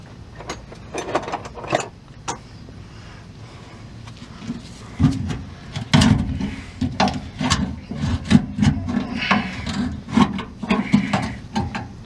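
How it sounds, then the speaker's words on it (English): A pry bar works against the rusted spare tire hoist under a Ford F150, making irregular metallic scrapes, creaks and clunks. The noise starts sparse and grows denser and heavier partway through. "Let me get my pry bar."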